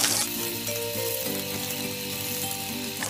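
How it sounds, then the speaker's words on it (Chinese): Middle sections of Zhoushan hairtail fish pan-frying until golden on both sides, giving a loud, steady sizzle that runs throughout with no talk. "煎到两面焦黄就可以了。"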